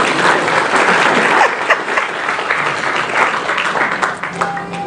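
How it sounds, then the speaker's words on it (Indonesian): Lively crowd applause at a gathering in Indonesia, continuous clapping at a strong, fairly even level, with some voices mixed in underneath. "Tepuk tangan nggak apa-apa."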